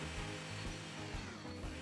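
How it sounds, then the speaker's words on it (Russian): A chainsaw maniac's chainsaw in Garry's Mod, a steady buzzing saw drone that runs continuously at moderate level with a few rhythmic pulses, carrying on alone without talk. "Ой, я слышу, бензопилист бегает где-то."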